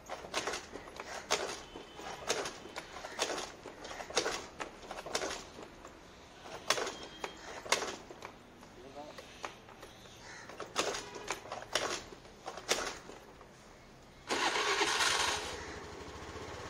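A small engine is kick-started by slow pedalling, with a string of sputtering, uneven bursts that end in a louder, steadier running sound near the end. It is close by, and no one speaks.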